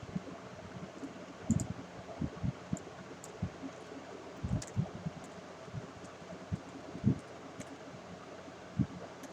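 Keyboard keys are tapped in short irregular bursts of soft clicks while an email address is typed, faint and close against a quiet background hiss, with no talking.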